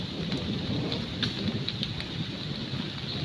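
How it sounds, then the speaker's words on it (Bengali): Steady rain pours down during a spell that halts building work, a dense continuous patter with no break and no voices. "এর মধ্যে নেমে গেছে বৃষ্টি।"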